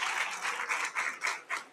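An audience applauds the board of directors at a NAHREP Dallas gathering, a steady wash of many hands clapping that swells and dips in soft pulses, moderately loud and with no voices over it.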